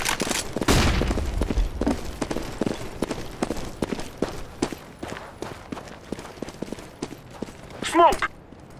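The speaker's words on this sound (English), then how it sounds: "I'm throwing flashbang!" A flashbang grenade bursts with a loud, sharp blast early on in a video game firefight, followed by scattered gunfire-like pops, footsteps and clattering impacts throughout.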